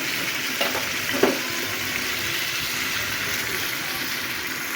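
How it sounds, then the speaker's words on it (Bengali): Prawns frying with spices in a pan, a steady close sizzle with a couple of brief stirring clatters near the start, no talking. "মাছগুলোকে একটু মশলার সাথে ভালো করে কষিয়ে নেবো আমি"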